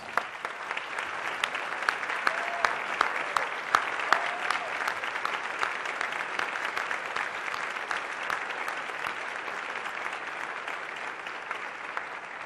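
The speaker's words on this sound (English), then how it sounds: "could we give them a round of applause." Sustained applause from a standing crowd at a Secretary of State's speech, dense steady clapping that fills the whole stretch without letting up.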